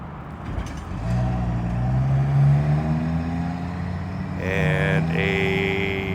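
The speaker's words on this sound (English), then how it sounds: "Here comes a Ford." A Ford car passes through street traffic in Hope, British Columbia, its engine rumble swelling and fading close by, followed by a higher tonal whine amid other vehicles.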